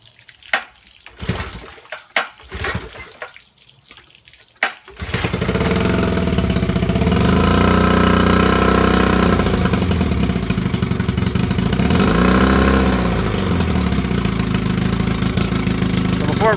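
A 1962 Johnson 10 hp outboard motor sputters through a few uneven, intermittent bursts, then catches and runs steadily with a loud, continuous buzzing drone and a slight wavering in pitch, heard close by.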